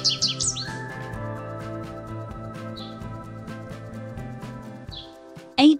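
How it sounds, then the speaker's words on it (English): A small yellow-and-black songbird gives a few quick bright chirps at the start and again at the end, over sustained melodic background music. "a small songbird with a radiant presence, is a delightful visitor to gardens and meadows"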